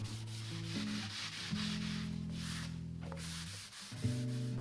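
A scouring pad scrubs charred wood in steady, continuous rubbing strokes, quiet and close, with soft background music underneath and a brief pause near the end.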